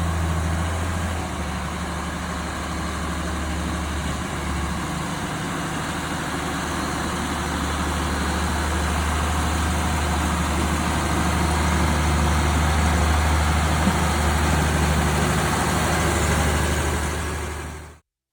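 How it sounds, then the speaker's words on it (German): A tractor labours along a narrow forest path in Montenegro, its engine a loud, continuous low drone that stays close and steady before cutting off abruptly at the end, with no voices. "die Quelle des Lärms entpuppte sich als ein Traktor, der sich auf einem schmalen Waldweg abmühte"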